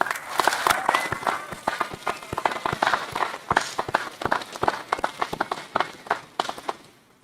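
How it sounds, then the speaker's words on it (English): Audience applause at a Salem Community College commencement ceremony: dense, uneven clapping from a crowd that swells and fades across several seconds, with sharp individual claps standing out and no voices above it. "stand and get applause, please"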